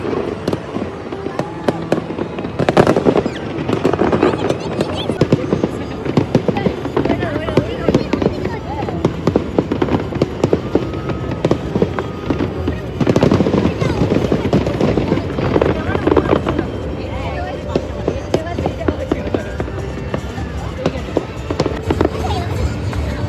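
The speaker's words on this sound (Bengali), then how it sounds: "আর ঠিক 12টা বাজতেই আকাশ ভরে গেল ফায়ার ওয়ার্কসের আলোয়।" New Year fireworks over the Yarra River: continuous loud crackling and booming bursts, dense and overlapping throughout, with crowd voices and chatter mixed in.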